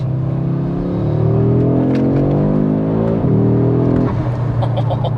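A 2022 Audi RS3 8Y five-cylinder engine revving loudly and close, its deep droning note climbing in pitch through several rising sweeps before dropping back.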